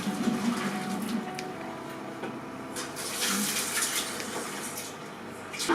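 Cold running water pouring over cooked cassava, a steady close splashing hiss from a tap that swells briefly about halfway through, with no voices.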